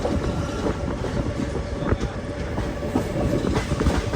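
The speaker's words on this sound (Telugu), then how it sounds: "ICF కోచెస్ కాబట్టి 110 km/h క్రూజింగ్ స్పీడ్ ని దాటి వెళ్ళదు మన ట్రైన్." Jammu Tavi Express with ICF coaches runs at around 110 km/h cruising speed, heard from onboard as a loud, steady rumble with rhythmic clickety-clack of wheels over rail joints throughout.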